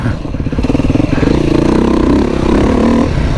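A Beta RR motorcycle engine runs under way, a loud, steady throbbing drone with rising revs and rough mechanical clatter, close up, with no talk over it.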